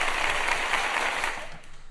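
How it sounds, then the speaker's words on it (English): An audience claps and cheers in a short, dense burst that is loud and close at first, then fades away over about two seconds. "Clap again."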